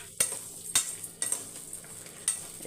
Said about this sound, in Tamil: இப்போ இதை கொஞ்சம் பொன்னிறமாக வதக்கி எடுத்துக்கலாம்